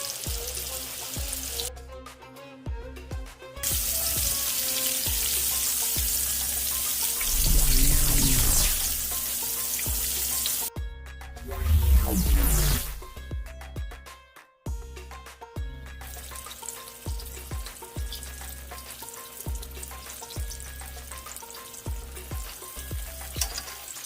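Green tomato slices, Southern style and shaken free of excess coating, fry in hot oil with a constant loud crackling sizzle that swells as fresh pieces drop in. Running tap water and handling noises come and go. No talking.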